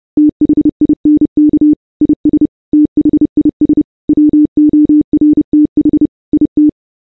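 Loud Morse code signal in a corrupted Minecraft server setting: a single steady beeping tone keyed into short and long pulses with gaps, alone against silence.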